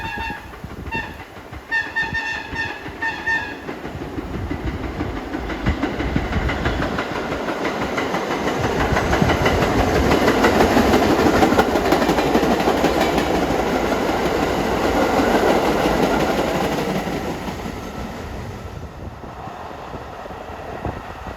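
A vintage R32 New York City subway train built by Budd rumbles past in Brooklyn with rhythmic clickety-clack of wheels over rail joints, swelling loud at its closest then fading; a brief bell-like signal tone early on.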